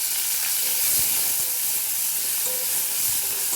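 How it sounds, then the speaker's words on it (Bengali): Chopped tomato fries in hot oil in a wok, giving a steady loud sizzle and hiss with a few soft stirring knocks underneath, close and continuous. "কড়ার মধ্যে আমি তেল দিয়ে দিয়েছি। এবার টমেটোটা আমি কড়ার মধ্যে দিয়ে দেবো।"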